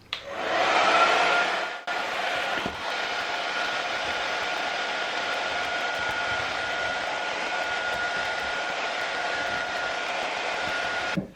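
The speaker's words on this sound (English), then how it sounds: "I'm going to try blow drying it gently to soften it up" A hair dryer blows steadily on hardened sculpting clay to soften it, with a loud whooshing hum that briefly dips near the start before continuing evenly for several seconds, with no voices.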